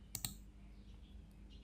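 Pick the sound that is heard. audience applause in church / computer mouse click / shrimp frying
computer mouse click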